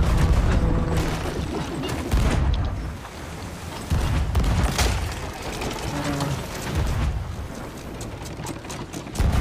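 Chain shot cannon fire in a naval video game, a series of heavy booms and blasts in irregular bursts, loud and close, layered with game mechanical noise.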